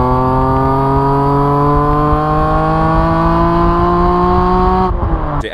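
BMW Z4M Coupe engine breathing through a custom catback exhaust, a loud sustained drone that climbs steadily in pitch as it revs up, then cuts off abruptly near the end.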